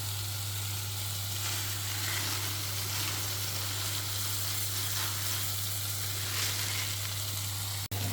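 Rice frying in a hot pan gives a steady, close hiss and sizzle lasting throughout, with no talk and a low hum underneath.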